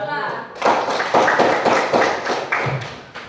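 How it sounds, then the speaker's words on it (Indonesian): A classroom audience claps for a student presentation group, with several bursts of hand claps and taps close by, some louder thumps among them, heard without speech. "tepuk tangan buat kelompok 2"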